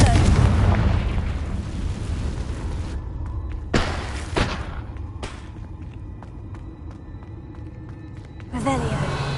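Booming explosions from the Confringo fire spell in a Hogwarts video game: a heavy rumbling blast at the start, then sharper impacts and crackling debris, with another burst at the end.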